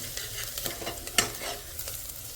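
Onions frying in a pan, a close, soft sizzle broken by scraping stirs and one sharper clack of the utensil.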